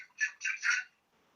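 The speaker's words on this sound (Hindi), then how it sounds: "किसी का फोन बहुत डिस्टर्ब कर रहा है" A mobile phone rings out among a seated audience at a spiritual talk, three short bright electronic chirps in quick succession, moderately near, followed by quiet.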